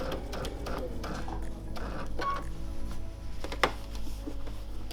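Domestic sewing machine machine-quilting around an appliqué shape, a steady mechanical whirr with fast needle clatter that pauses briefly and resumes, close and moderately loud with no talking.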